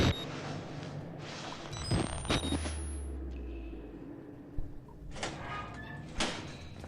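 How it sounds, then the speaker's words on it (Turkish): A locked door is activated inside the Outlast horror game, giving a low mechanical rumble and sliding clunk that carries for a couple of seconds, followed by scattered thuds and creaks at moderate loudness, with no talking. "Kilitli olan kapıyı aktif hale getirdik."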